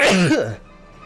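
A single loud, close sneeze from an adult bursts out and trails off quickly into quiet, with a brief voiced tail.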